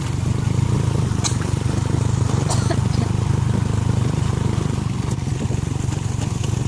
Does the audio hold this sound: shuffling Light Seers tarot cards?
no